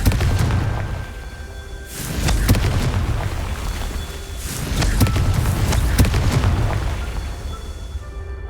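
Booming fire-curse blasts from the Confringo spell during a Merlin trial in the Hogwarts Legacy video game, loud, layered and rumbling, with surges at about two and five seconds over continuous game noise.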